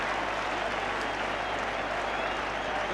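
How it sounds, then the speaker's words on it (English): A football stadium crowd roars and applauds steadily after a goal in an Everton v West Bromwich Albion match, a loud, dense wash of noise that continues without a break. "they've waited some time in this game to have something to cheer about, but Mike Lyons provides it."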